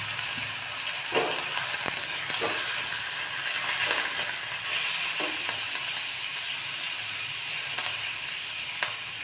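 Curry leaves and a green chili-garlic paste fry in hot oil in a pan for pav vada, a loud steady sizzle with occasional spatter pops and a few spoon scrapes, no voices.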